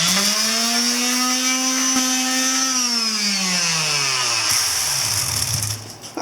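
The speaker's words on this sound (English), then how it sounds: "We got the whole thing sanded off pretty well, so now it should accept the paint fairly easily." Powered sanding with 220 grit sandpaper on a chrome chain guard of a Yamaha Virago XV250 motorcycle: a steady whining motor hum that holds its pitch, then gradually winds down lower before cutting off.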